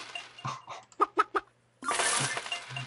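Cartoonish chicken clucks from the Farm Empire video game, a few short bursts followed by three quick rhythmic clucks, then a brief silence and a dense burst of game sound effects.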